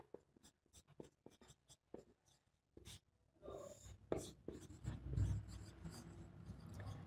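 Marker or chalk scratches and taps on a classroom board in short strokes and dabs, close but quiet, with rubbing sounds and some room noise toward the end.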